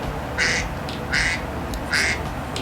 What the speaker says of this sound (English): I put a duck ringtone